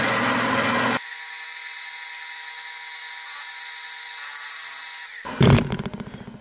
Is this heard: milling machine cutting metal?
yes